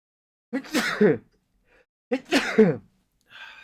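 Two sneezes, each a sharp intake followed by an explosive burst, about a second and a half apart, close and alone with silence between.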